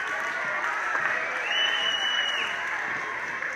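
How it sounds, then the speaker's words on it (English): A school crowd applauds young performers at an elementary music festival concert, a steady dense wash of clapping that carries through the whole stretch with no pause. "Nice round of applause for Ana,"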